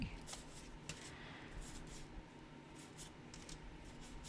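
A large, oversized tarot deck with matte-backed cards is shuffled, giving soft, quiet riffling and papery rustles with a few sharper flicks throughout.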